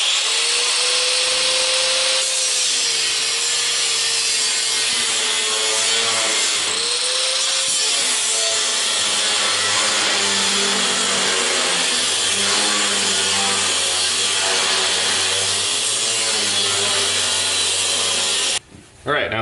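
A power saw makes a rough cut through plate stock for homemade snowblower skid shoes, a steady loud grinding buzz running almost continuously for about nineteen seconds before cutting off near the end.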